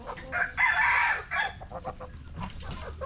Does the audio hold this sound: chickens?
yes